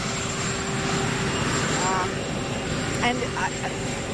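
Steady rumbling roar of a helicopter at an airport, continuous and fairly loud, with faint voices briefly audible beneath it.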